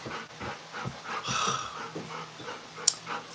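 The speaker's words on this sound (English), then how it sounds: "This dog is freaking out." A dog pants in quick repeated breaths with a few soft whimpers and yips, close and moderately loud in an indoor room, with no talking.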